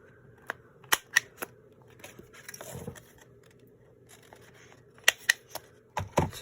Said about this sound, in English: then we can trim or punch the corner